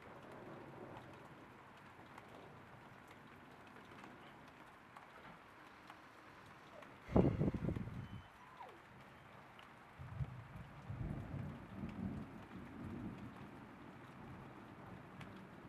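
Steady rain patters throughout a severe thunderstorm in northern Victoria, broken by a loud rolling crack of thunder midway and a second lower rumble that swells and fades near the end.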